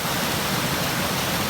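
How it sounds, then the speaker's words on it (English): A small waterfall beside a river on a Michigan trail loop, pouring steadily as a dense, close rush of falling water with no break and no voices. "Cool little waterfall."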